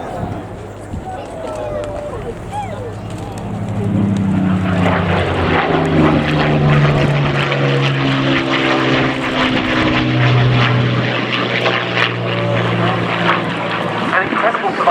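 A Spitfire fighter from the Royal Air Force historic flight makes its last manoeuvre at the Cosford airshow, its piston engine droning loud and steady overhead while an announcer talks throughout.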